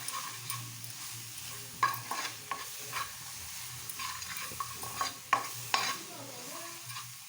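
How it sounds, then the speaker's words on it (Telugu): Chicken with chili powder frying in a hotel-style curry pan, a steady close sizzle broken by repeated sharp scraping clicks of a spoon stirring the pieces, with no talking. "బాగా వేపుకుందామండి."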